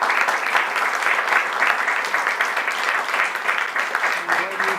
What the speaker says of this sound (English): I'd like to have your applause for our three main guests, for Moritz, Sparta, and Ning.